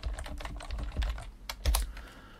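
Fingers tap arrow keys on a computer keyboard while navigating mind-mapping software, giving a close, irregular series of crisp clicks with a few heavier strokes.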